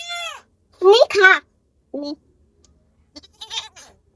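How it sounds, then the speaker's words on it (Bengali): A young goat bleats several times close by, quavering cries in short bursts with brief pauses between them, in a home setting. "এই যে খাসি আমাদের"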